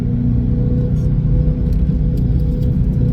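A BMW M3 cruising on the Blue Ridge Parkway gives off a continuous deep, low engine rumble, loud and steady from inside the car with little change in pitch.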